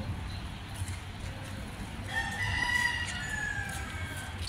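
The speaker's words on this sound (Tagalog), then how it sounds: "Ang manok ay nagtiktilaok." A neighbour's rooster crows in the middle distance on a rainy day, its long rising call sounding once over a steady wash of rain.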